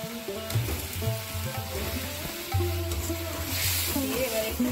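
Cauliflower curry fries in a pan with a continuous close sizzle and occasional stirring, over a steady tonal background hum. No speech.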